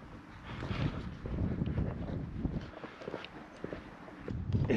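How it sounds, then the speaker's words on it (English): Breezy wind buffets the microphone outdoors in the quiet streets of Saint Pierre, a steady broadband rush with gusty swells that grow stronger toward the end. "My hands are getting a little cold because it is breezy"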